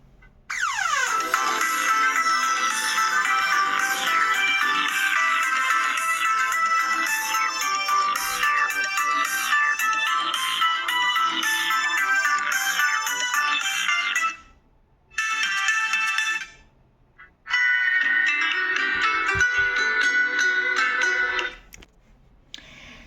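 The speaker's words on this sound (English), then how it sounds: "Here let's play the sound and we'll move on the ringtone," A POCO M8 5G phone plays its ringtone through its stereo speaker: a bright, melodic electronic tune that runs for a long stretch, breaks off briefly twice, then resumes before stopping.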